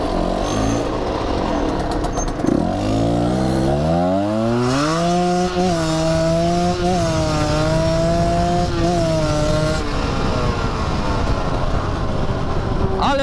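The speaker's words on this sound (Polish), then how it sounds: "Ale widzicie, motor się ładnie wkręca." 125cc motorcycle engine revving up through the gears, loud and close, its pitch climbing repeatedly in stepped sweeps with brief dips at each shift, under steady wind noise.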